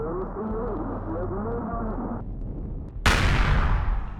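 Artillery cannons firing in Empyrion Galactic Survival: a single loud, sudden blast erupts and rumbles away, after a stretch of in-game voice and humming machinery.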